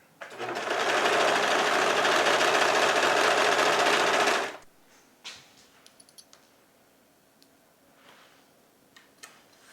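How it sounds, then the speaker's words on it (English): A sewing machine runs steadily for about four seconds, top stitching the mock fly on pants made from thrifted curtains, then stops, leaving faint handling clicks and small taps. "as I was sewing this top stitch"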